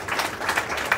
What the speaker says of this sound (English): the applause have finished